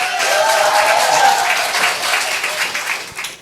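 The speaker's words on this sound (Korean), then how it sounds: "박수 한번 크게 해주세요." A crowd at a church testimony gathering gives loud, dense applause that stays steady for a few seconds, close and full, with no talking over it.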